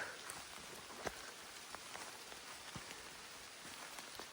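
Steady rain falling through a forest in the Kyiv region in the evening, a dense even patter on leaves with a few closer drips, no voices.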